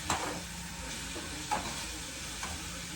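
Onion and garlic frying in a pan, a steady soft sizzle with a few brief scraping stirs breaking through at intervals, close and moderate in level with no talk.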